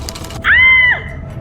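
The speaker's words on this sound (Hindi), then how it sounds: "आकांक्षा के मुंह से चीख निकल गई" A woman's high, sustained scream bursts in suddenly after a short moment of quiet, loud and close, held for about half a second before cutting off, in a horror story setting.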